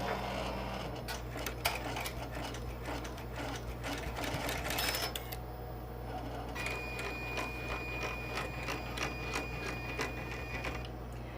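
An embroidery sewing machine stitches a star applique on a zipper bag, a fast, steady needle chatter with a constant motor hum, close and even throughout, briefly pausing then resuming.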